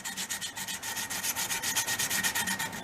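Steady rhythmic rasping of a file or sandpaper chamfering the edge of a wooden mallet, repeated strokes at a close, even pace with no talking.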